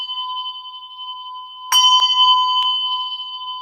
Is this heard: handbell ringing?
yes